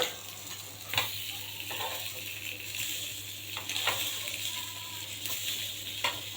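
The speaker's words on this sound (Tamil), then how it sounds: "இது நல்லா மீன் பொரிக்கிறதா சூப்பராக இருக்குது." Fish frying in oil in a home kitchen pan, a steady close sizzle with a few sharper spits and clinks of stirring, and no voices.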